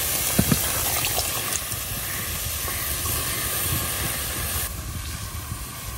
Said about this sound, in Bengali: কড়াই দিয়ে দিতেছি বাঁধাকপি